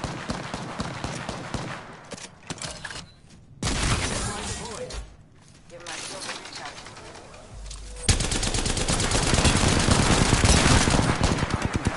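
Bursts of video game gunfire crackle through a fast squad shootout, dense rapid shots alternating with brief gaps and swelling into a loud sustained barrage near the end, with players talking over the action.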